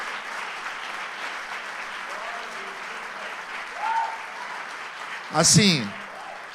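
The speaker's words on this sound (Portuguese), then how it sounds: "Queria que vocês pudessem aplaudir a Deus pela vida dessa igreja." Church congregation applauding during a celebration service, a steady wash of clapping from a crowd that persists throughout, with a speaking voice briefly rising near the end.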